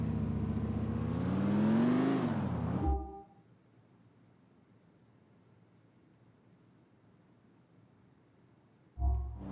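Car engine in Grand Theft Auto 4 revs loudly for about three seconds with a rising, falling pitch, then drops to a low steady idle rumble before surging again at the end.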